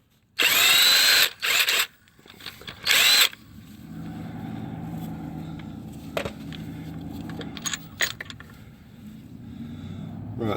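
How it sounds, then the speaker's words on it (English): On a 2011-2015 Chevy Cruze 1.8L, an impact wrench fires in three short, loud bursts near the start while loosening a bolt. Quieter engine-bay clatter and a low background hum follow. "you're gonna need an impact, and you need one that can get this bolt loose"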